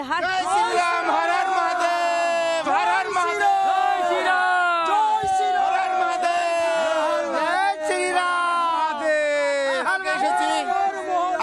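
Pilgrims from West Bengal at the Kumbh Mela in Prayagraj chant slogans in loud, close, rhythmic call-and-response shouts, repeated bursts of many voices filling the whole stretch.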